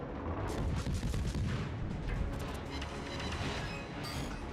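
AP shells fired from the destroyer Kidd's guns in World of Warships, booming naval gun salvos over a continuous rumble of engine and sea noise.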